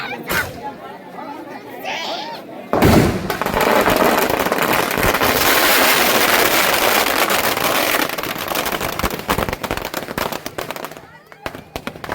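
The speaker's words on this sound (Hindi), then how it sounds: "आतिशबाजी देखिए।" Loud fireworks crackle and pop in a dense, continuous barrage at a Dussehra Ravana-burning festival in Araoud, with people chattering in the background.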